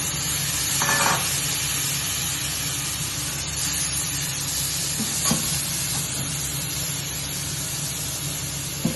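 Spice paste loosened with water, then gule fish, hit a hot kadai with a steady, close sizzle and hiss that runs throughout, broken by a few brief stirring clinks, with no talking.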